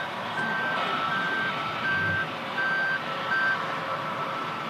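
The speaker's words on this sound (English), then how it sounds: "Not the beeping from the sweep" An airport sweeper truck beeping as it reverses at Manchester Airport: five evenly spaced loud tones over a constant rumble of engines and distant airfield noise.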